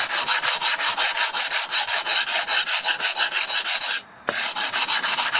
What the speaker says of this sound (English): take a 100 grit sandpaper, wrap your sanding block with it